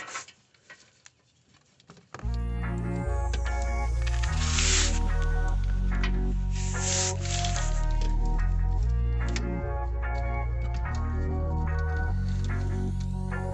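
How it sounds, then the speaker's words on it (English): Engine oil drains from a 2013 Nissan Altima after the oil filter is pulled off, with a steady splattering, pattering stream onto the frame following a quiet start, close and continuous. "we're gonna pull our oil filter off"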